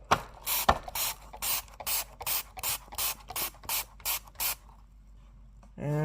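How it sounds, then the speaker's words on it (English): Repeated short hissing sprays from a trigger bottle of Dawn Platinum Power Wash dish spray onto a vintage brass candle holder, about ten quick squirts in a steady rhythm, close up, followed by running water at the end. "I'm going to try use a little bit of Dawn Platinum Power Wash dish spray"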